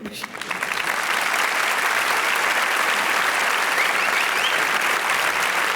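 Loud, dense audience applause for a comedy sketch performer at a Paris stage humour show, building quickly and holding steady throughout.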